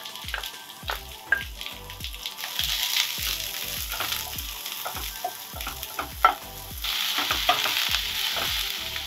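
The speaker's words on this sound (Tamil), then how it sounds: "இது கூடவே சேர்த்து ஆனியனும் நல்லா வதக்கிடலாம்" Dried red chillies and chopped onions sautéing in hot oil give a steady, close crackling sizzle, cut by repeated rhythmic scrapes and clacks of a spatula stirring the pan, with no voices.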